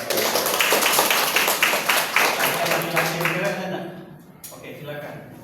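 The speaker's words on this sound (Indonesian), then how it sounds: "terima kasih tepuk tangan untuk Rafa" Classroom applause for a student named Rafa: a burst of many hands clapping in quick, dense rhythm, loud and close, fading out after about four seconds into room quiet.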